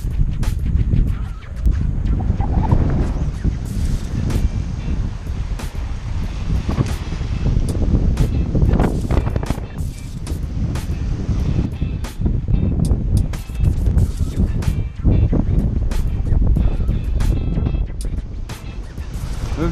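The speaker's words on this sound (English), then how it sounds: "wind noise that there is on the camera today" Loud, constant wind buffeting a camera microphone on a crowded fishing pier at Fort Clinch State Park just after Tropical Storm Emily, with heavy low rumble and repeated gust thumps throughout.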